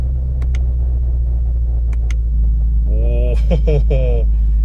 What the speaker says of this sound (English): Let's put that active exhaust on.